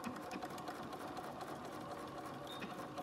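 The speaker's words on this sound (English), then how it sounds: "I'm gonna put it back on the sewing machine like this." Sewing machine stitching a fabric surgical cap made from a fat quarter, a quiet, steady mechanical whir running evenly throughout without pauses or talk.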